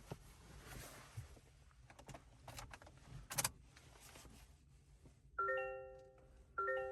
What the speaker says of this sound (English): And I love the new chime.